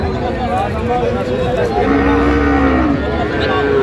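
A bull calf moos clearly at a busy cattle market in Aftabganj, a drawn-out bellow standing above a steady background of crowd chatter and livestock noise.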